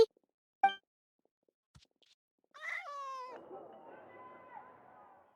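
A few short, clear meows from a cat in the video game Genshin Impact, with quiet gaps between, then a longer drawn-out mewing cry trailing off, close and fairly soft.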